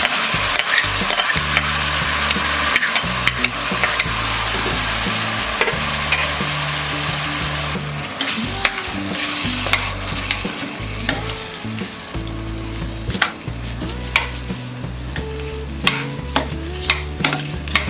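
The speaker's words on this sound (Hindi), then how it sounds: "मिक्स करके इसे 2 मिनट तक फ्राई करेंगे" Green moong dal and rice are stirred and fried in a pan over a low flame, with a loud, continuous sizzle broken by repeated scraping strokes of the spoon. No one speaks.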